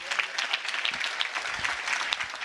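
A congregation at a Christmas celebration in Bhomti claps loudly together, a dense, lively burst of hand clapping sustained throughout with no talk over it.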